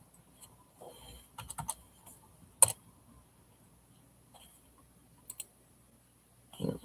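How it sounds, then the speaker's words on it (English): Computer keyboard keys clatter in short irregular bursts of clicks and taps, close and fairly quiet, with pauses between flurries and one sharper keystroke standing out. "I typed it in incorrectly"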